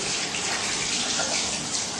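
Water rinsing Slime tyre sealant out with clean water, a steady, loud, continuous rush and splash of running water throughout.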